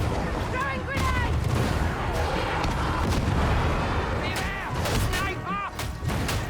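A thrown grenade bursts in Darktide, landing as a heavy boom among ongoing combat noise, with shouting voices and clattering gunfire around it.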